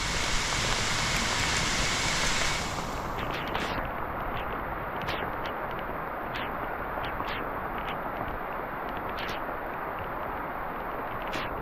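Steady, dense rain hiss on the Appalachian Trail in Pennsylvania fills the clip, heavier for the first two seconds, then continuing as a constant downpour with scattered sharper drops.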